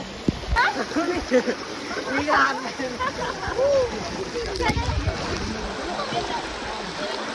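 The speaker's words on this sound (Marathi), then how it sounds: "ही छोटी मोठी नदी भेटतच चालली आम्हाला रस्त्यात।" Water from a small stream splashes and rushes steadily while people talk over it, close by.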